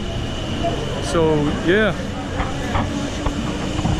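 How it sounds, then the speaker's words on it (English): A tram on the Ayacucho tramway line in Medellín passes along the street, its rising and falling metallic squeal or whine over steady rumbling street noise, with a person speaking briefly nearby. "And the tram is coming right behind us. Here comes the tram."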